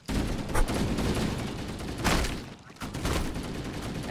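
Gunfire in the Halo: Combat Evolved Anniversary video game rattles in dense, rapid bursts, with a louder volley near the middle and a short lull before the shooting resumes.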